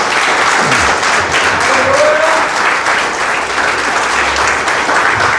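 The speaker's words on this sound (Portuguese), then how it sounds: "Aplauda Jesus bem forte." A church congregation applauds loudly and steadily for several seconds during a sermon, a full wash of many hands clapping with a few faint voices mixed in.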